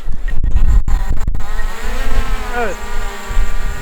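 A drone lifts off in automatic takeoff mode outdoors in snow, its rotors rising into a steady whine under wind noise while someone says a brief word.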